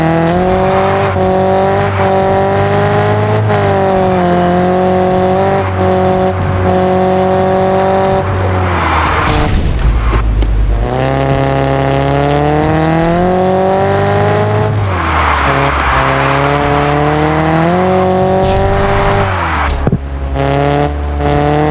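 Engine of a car in a street-racing video game, driven and revved in repeated climbing surges, each rise cut by a gear change or lift-off and then building again, loud and close with no talking.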